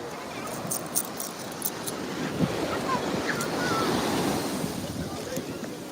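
Sea waves wash steadily onto the shore at Thiruchendur, a continuous broadband roar of surf with wind buffeting the microphone and faint crowd voices in the distance.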